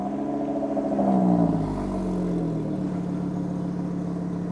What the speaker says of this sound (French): Parce que bon, on a parlé du 5 cylindres, maintenant on veut l'entendre.